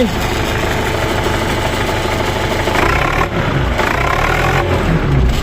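A car engine idles at low revs, a steady close rumble with a faint knocking texture and vibration, a few brief voice-like sounds under it.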